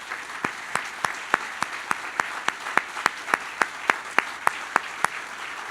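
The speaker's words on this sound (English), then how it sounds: "How about giving them a round of applause for keeping this going?" Slow, evenly spaced handclaps, around three per second, fairly quiet and close, at a grand opening ceremony, with no crowd wash behind them.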